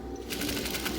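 Sewing machine stitching elastic and fabric for a circular face mask, starting up into a steady rapid needle chatter, close and continuous.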